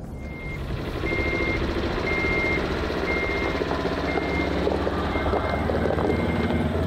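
A truck runs on a rural property during deer-hunting scouting, its engine a loud, steady close rumble throughout, with a thin high tone sounding repeatedly over it.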